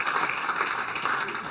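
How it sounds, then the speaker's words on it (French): An audience applauds at a motorsport team presentation for the LMP2 category, a steady dense wash of clapping that stays fairly even and moderately distant for its short span. "Mesdames et messieurs, vos applaudissements aussi, s'il vous plaît, pour les acteurs de la catégorie LMP2."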